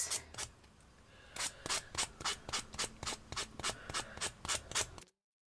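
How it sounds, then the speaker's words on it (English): Excess being filed off a small wooden craft disc, a rapid run of even rasping strokes, close and fairly loud, in a regular back-and-forth rhythm that stops abruptly. "What we're going to do, file off the excess."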